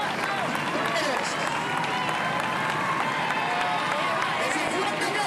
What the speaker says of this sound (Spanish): Ese fuerte aplauso para estos compañeros.